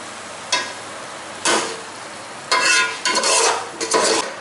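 A spoon stirs mutton with spices in a pot for degi-style white mutton pulao, with distinct scraping strokes in separate bursts over a faint sizzle background.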